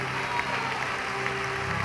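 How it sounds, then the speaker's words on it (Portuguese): A church congregation claps in a dense, continuous wash of applause, with crowd murmur and sustained background music underneath. "Dá um aplauso a Jesus neste dia."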